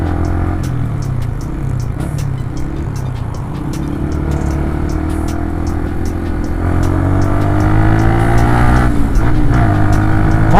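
Yamaha Vixion motorcycle engine idling close by in a steady mechanical thrum, then revving up with rising pitch toward the end.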